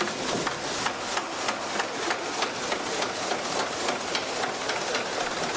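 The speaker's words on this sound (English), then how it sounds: "Kempton Park steam engines are among the largest working triple-expansion steam engines in the world" Worthington Simpson triple-expansion steam engines at Kempton Park, once used to pump Thames drinking water, run with a steady loud hiss and regular rhythmic thumps about twice a second, close by and continuous.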